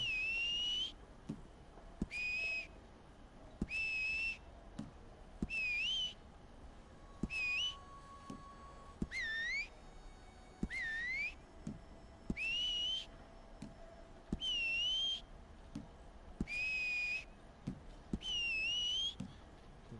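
Whistle styles being picked one after another in Red Dead Online, short bright melodic whistles each rising or falling in pitch, repeated about a dozen times over soft clicks and a low background hum.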